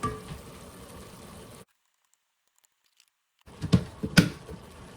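Butter melts in a pot with soft carrots, giving a light sizzle and stirring, then a break of near silence before spoon scrapes and clicks return more strongly up close.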